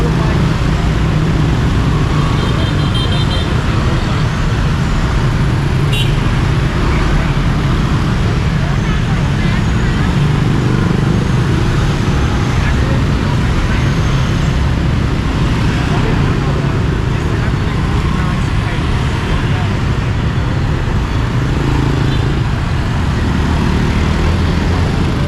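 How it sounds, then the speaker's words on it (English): Heavy street traffic fills a busy road in Ho Chi Minh City with a dense, continuous roar of engines and road noise, steady and loud throughout, with no clear break. "Ho Chi Minh City has a growing traffic problem"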